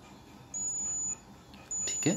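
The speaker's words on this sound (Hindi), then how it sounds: "अगर आप सुन पा रहे हैं तो बीप बज गई है" A digital thermometer gives two short, high-pitched electronic beeps in a quiet room, followed by a brief rustling sound.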